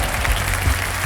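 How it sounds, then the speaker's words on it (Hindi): A quiz-show studio audience applauds loudly to welcome junior contestants, a dense, steady wash of crowd clapping. "मैं चाहता हूँ कि जोरदार तालियों के साथ इनका स्वागत किया जाए।"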